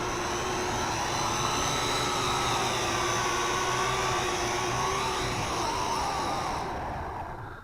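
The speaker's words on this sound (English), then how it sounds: "Landing the quadcopter." A Syma X8C quadcopter drone sets down for landing, its rotors giving a loud, steady whine with a shifting pitch that slowly fades near the end.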